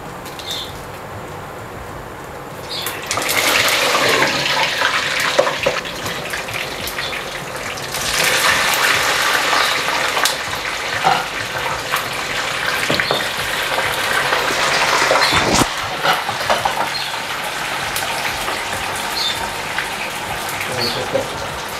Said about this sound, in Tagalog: after natin i-rice yung ating pork or yung ating bagnet, so ibabalik natin ulit sa ating oil